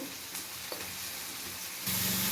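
Tomatoes fry with salt in a pan for okra palya, giving a soft, steady sizzle that swells into a brighter, louder hiss near the end.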